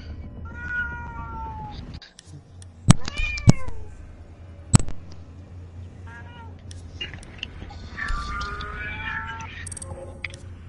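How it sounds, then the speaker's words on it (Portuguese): Several cats meow repeatedly across the stretch, some calls sharp and close, with a faint voice and game sounds in the background. "Os gatos tão bravos aí"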